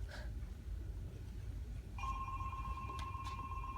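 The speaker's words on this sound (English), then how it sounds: "Could you get the damn phone?" An indoor telephone starts ringing partway through with a steady bright electronic tone that continues to the end. A low constant hum sits underneath and no one speaks.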